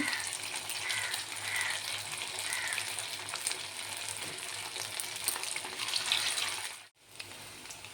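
Ten boras frying together in oil in a kadai, a steady close sizzle with crackling bubbles that briefly cuts out near the end.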